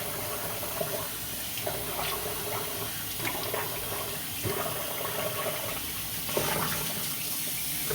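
Cold tap water runs steadily into a sink while someone splashes it on their face, with a continuous hiss of flow broken by irregular splashes, fairly close, and nobody speaking.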